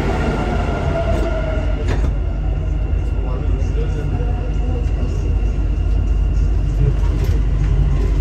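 Dubai Metro Red Line train pulling out after its doors close, a steady loud rumble of the moving car with some faint squeal and clunks, with no talking.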